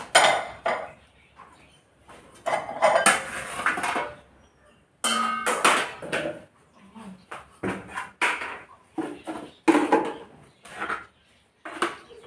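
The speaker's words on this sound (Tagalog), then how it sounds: "Hugasan ko muna itong ginamit namin na maitim na kaldero." A blackened cooking pot and dishes being washed: metal clanks, scrapes and clinks of cutlery come in irregular close bursts separated by short pauses, with some speech in between.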